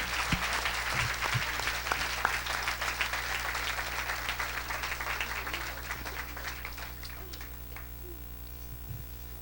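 Church congregation applauding and cheering for Jesus, dense sustained clapping from a large crowd that gradually thins and fades toward the end.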